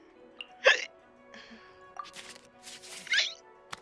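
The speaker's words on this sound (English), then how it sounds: "I have so many hiccups." Two sharp, distinct hiccups about two and a half seconds apart, close and fairly loud, with quiet mouth noises and faint shuffling between them.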